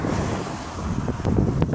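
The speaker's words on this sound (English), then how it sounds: "man, it's windy" Strong wind roars and buffets the microphone on a cycling tour through Scandinavia, a dense, continuous rushing noise with gusting swells and a few faint knocks.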